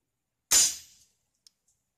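One sharp crack of an air rifle at minimum power firing a homemade lead pellet at an oil filter, a quick decaying tail, followed by a tiny faint click.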